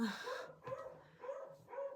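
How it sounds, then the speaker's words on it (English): A corgi and a beagle bark indoors at something seen out the window, giving a quick run of four or five sharp barks and yips at moderate distance, some overlapping, with short gaps between them. "really good about barking at everything they see out the window, especially the corgi and the beagle."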